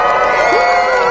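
A crowd at a night-market street performance cheering and shouting together in one loud, steady roar, with some children's voices mixed in.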